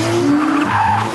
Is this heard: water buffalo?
no